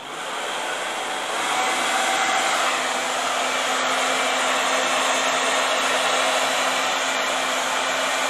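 A hair dryer on medium heat runs steadily close by, drying hair set on magic rollers with mousse, a continuous breathy whir that swells slightly after the first second and holds level with no talking.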